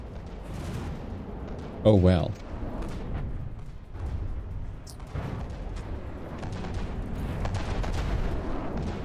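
Naval cannon fire and explosions in the From the Depths battleship game, with a sharp blast early on and rumbling booms rolling underneath, while someone talks over the action.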